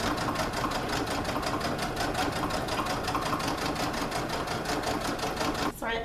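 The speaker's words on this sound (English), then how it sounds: "I'm going to go ahead and reinforce that stitch by back stitching" A sewing machine runs steadily in a fast, even rhythm while back stitching fabric for a large tote bag, close and continuous before stopping briefly at the end.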